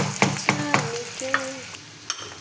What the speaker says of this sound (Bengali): পেঁয়াজটা ভেজে নেবো ভালো করে